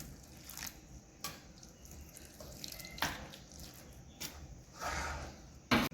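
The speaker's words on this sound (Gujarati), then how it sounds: "હવે આમાં ગરમ કરેલું પાણી થોડું થોડું કરીને આપણે નાખીશું।" Hot water trickles little by little into poha flour in a home kitchen, a soft irregular splashing and pouring with brief louder bursts and small clinks, close by and without talk.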